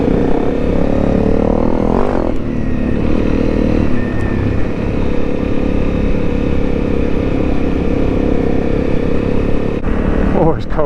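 A Honda CRF Rally motorcycle rides through a cold forest, its engine droning steadily and close with shifts in pitch as the throttle changes, loud throughout.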